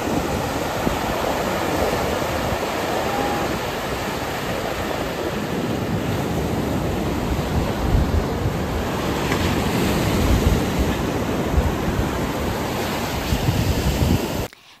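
Ocean waves wash steadily onto Paradise Beach in Pondicherry, a continuous broad surf roar with wind buffeting the microphone, with no voices, until it cuts off abruptly at the very end.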